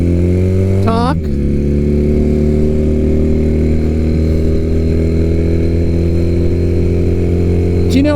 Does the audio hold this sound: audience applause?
no